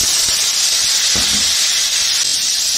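Dried chili, cardamom and cumin frying in hot mustard oil in a wok produce a loud, dense, continuous hiss with a few faint clicks underneath.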